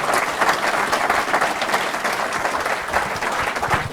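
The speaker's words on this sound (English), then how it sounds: "Let's give John another round of applause." Steady, dense audience applause at a talk about guns, continuous crowd clapping at moderate level throughout.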